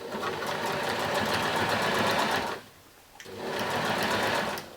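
Sewing machine stitching the stretched waistband of fashion doll tights, a close, steady mechanical whir that halts briefly then starts up again.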